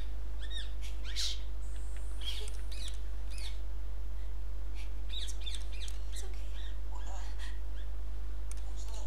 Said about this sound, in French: Ah, le petit oiseau.